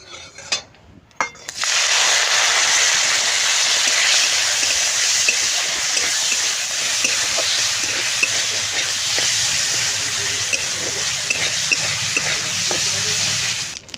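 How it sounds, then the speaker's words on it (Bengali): Prawns frying in hot oil in a wok, cooked for a prawn and potato dish, with a loud, steady sizzle. It starts after a quiet first second and a half and runs unbroken to the end, with faint utensil clinks. "তেলটা গরম হয়ে গেছে, আমি একটুখানি ভেজে নিচ্ছি।"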